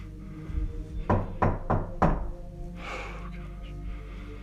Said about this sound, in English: Something starts knocking at the door.